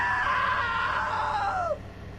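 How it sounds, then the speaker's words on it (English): A single long, high-pitched human scream that holds for almost two seconds, then bends downward and cuts off abruptly, loud and close. "Now that was a great scream"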